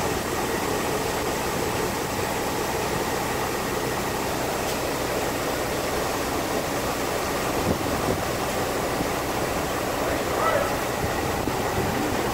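Wind blusters steadily across an outdoor farm yard where rye is being unloaded from a superbee trailer, a constant rumbling noise mixed with a low idling engine hum.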